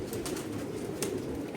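A pigeon gives soft, low cooing close by over a short stretch, with a faint flutter-like rustle and no one speaking.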